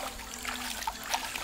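Water splashes and trickles in a backyard pool as a dog swims, a continuous soft sloshing with a few sharper splashes close by.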